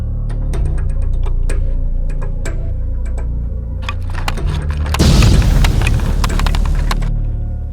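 Charges blowing up a road during a winter airsoft game, a sudden loud boom that rumbles and fades over a couple of seconds, preceded by a series of sharp ticking clicks.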